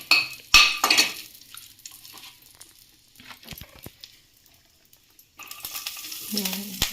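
Garlic dropped into moderately hot oil in a wok, with loud utensil clanks and scrapes at the start, then quieter stirring taps, and a renewed bright sizzle toward the end.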